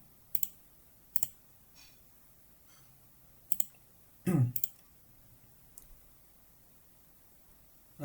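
A computer mouse clicking while an exam is set up in a thesis demo application; a handful of sharp, isolated clicks, some in quick pairs, spaced over several seconds in a quiet room.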